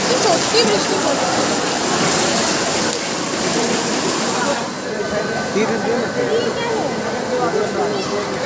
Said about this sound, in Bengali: সত্যি বৃষ্টি পড়ছে।